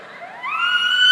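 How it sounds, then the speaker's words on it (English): A toy siren stick gives a loud, close siren tone that sweeps upward in pitch and then holds a steady wail, short and clear. "I used my siren stick."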